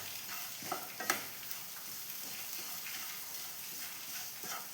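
Coconut pieces are stirred into a frying chickpea curry masala, a soft steady sizzle with a few quiet scraping strokes early on, faint and close.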